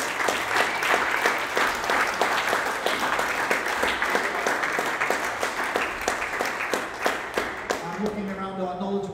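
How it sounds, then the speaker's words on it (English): Crowd at a squash tournament applauding the sponsors, brisk clapping with some sharp individual claps standing out, tapering toward the end as a voice begins speaking. "give us a round of applause for our sponsors"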